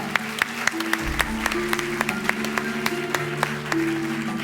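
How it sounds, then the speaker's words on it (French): Audience claps for a volunteer during a paranormal-style stage act at a musical bingo show, steady moderate clapping over a low humming background. "On peut l'applaudir bien fort."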